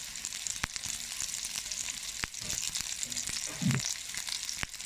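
Paneer pieces roast in a pan with a splash of water, giving a soft, steady frying hiss broken by scattered sharp crackles and pops.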